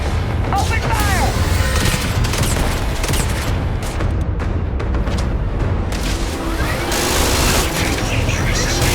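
Dense, continuous automatic gunfire and booming shots in the sci-fi video game Starfield, loud and close with overlapping bursts throughout, under intermittent shouted voices.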